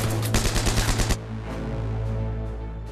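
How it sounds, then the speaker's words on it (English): Machine gun fire aimed at Castle Itter, heard as a rapid burst of about eight close, loud shots lasting around a second, followed by a low rumbling tail. "As a machine gun from a nearby ridge targets the castle"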